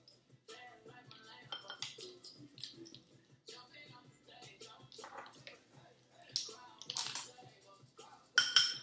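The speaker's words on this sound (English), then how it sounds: "and then mix them together with a fork" A fork whisks eggs and vanilla in a bowl for banana bread, making light, irregular clinks and taps against the bowl, fairly soft and close, with a sharper clatter near the end.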